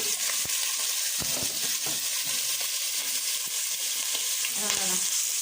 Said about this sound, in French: Une fois que l'huile est mise, vous venez prendre vos oignons. Allez, vous mettez tous les oignons.